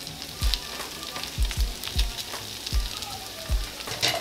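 Potatoes fry in a pan for a breakfast bowl, a steady close sizzle broken by several soft low thumps as pieces settle or shift.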